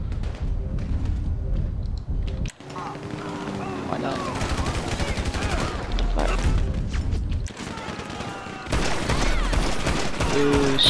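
Rapid bursts of gunfire in GTA 5, including a suppressed combat pistol, crack in dense fusillades with crashes and booms while players talk over the shooting.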